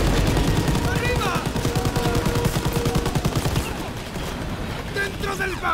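Machine gun fire in the video game Call of Duty: WWII during a fight aboard a train: loud, rapid, continuous bursts of automatic gunfire lasting several seconds, with shouted voices over the gunfire.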